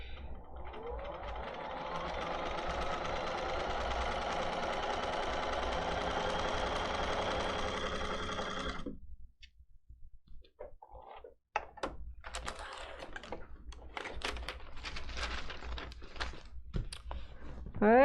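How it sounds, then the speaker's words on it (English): A sewing machine stitches a quilt piece along a marked line, a steady, loud mechanical whir running for about nine seconds, then stopping and giving way to handling clatter and scattered knocks. "We're going to sew on the line."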